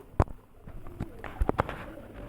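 Pigeons cooing in short, soft bursts with a few sharper flutter-like hits, heard close and fairly quiet.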